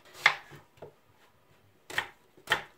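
An onion being chopped for a gratin: a few sharp knife strikes on a cutting board, one near the start and two more after a pause, close and fairly quiet with near silence between.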